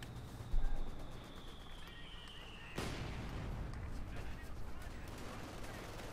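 Machine-gun fire in the World War II strategy game Company of Heroes 2 crackles in quick distant bursts through a busy battlefield mix, with a sharp louder crash partway through and rattling fire continuing after it.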